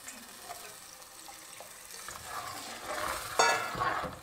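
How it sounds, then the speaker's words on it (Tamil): Rice-washing water is poured into a simmering pot of curry, a splashing gush building over a quiet background sizzle, growing louder toward the end. "இப்போ வந்து அரிசி கழுவின தண்ணி ஒரு கிளாஸ் அளவுக்கு ஊற்றிக்கிறேன்"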